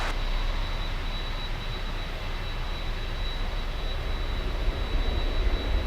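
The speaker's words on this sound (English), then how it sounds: "Wow, 747, takeoff in the south side. Excuse me, takeoff in the north side." A Boeing 747 jet takes off at Miami airport, a broad, steady roar of engine noise heard from a distance and holding fairly constant throughout, with no speech.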